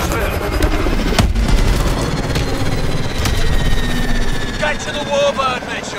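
In a Call of Duty Advanced Warfare firefight, a Warbird aircraft's rotor-like engine drone runs under bursts of machine-gun fire and sharp single shots, with voices talking over the combat.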